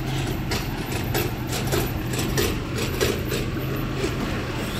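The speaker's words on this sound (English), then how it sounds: "The garbage truck's being noisy." A garbage truck engine idles with a low, steady rumble nearby, joined by faint intermittent clanks and rattles.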